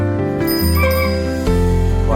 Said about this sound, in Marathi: बेल वाजव.